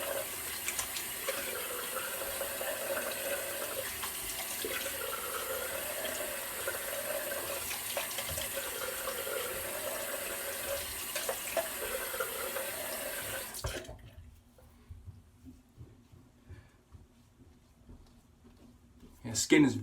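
A tap runs steadily into a sink for a quick rinse, a close, even hiss of flowing water for about fourteen seconds before it shuts off, leaving faint handling sounds.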